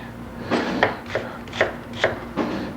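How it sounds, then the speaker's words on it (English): Red onion being chopped with a knife on a cutting board in a home kitchen, five or six distinct thudding cuts spaced at a steady, unhurried rhythm, close and fairly clear with no talking. "take a little red onion and chop that up"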